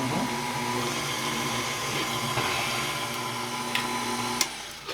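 An electric mixer whirs steadily through cake batter with vanilla, a continuous motorized hum close by, ending in a couple of clicks as it stops.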